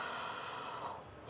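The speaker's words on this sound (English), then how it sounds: "Deepest breath you've ever taken. Inhale." A single deep inhale through the nose during a guided breathing exercise, close and fairly quiet, a rushing airy breath that tapers off toward the end.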